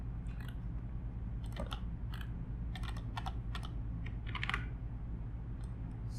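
Bursts of keystrokes on a computer keyboard tap out a command in quick irregular clusters, close and fairly quiet over a low steady hum, no talking.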